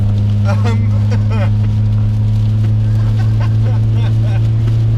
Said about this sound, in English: oh, listen to that. Oh, yeah, very loud and drony.